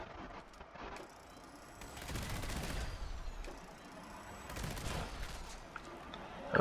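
Automatic gunfire from a Fallout game, bursts of shots spread across the stretch with a low rumble, fairly quiet and distant, no talk over it.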